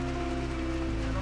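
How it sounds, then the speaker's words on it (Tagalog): Heavy rain pouring down steadily on surfaces, a dense even hiss close by with no voices. "At dahil naabutan ako ng malakas na ulan, kaya naghanap muna ako ng aking masisilungan."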